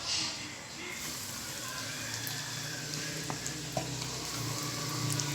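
Steady sizzling and bubbling of cornstarch-dipped chicken deep frying in hot oil, continuous throughout, with a few light clinks and taps.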